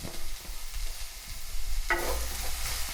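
Onions sizzle and crackle steadily in a hot pan as they are sautéed until golden, with occasional stirring scrapes and a brighter burst of frying partway through.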